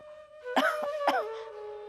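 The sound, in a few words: cough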